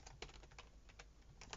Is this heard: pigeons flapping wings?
no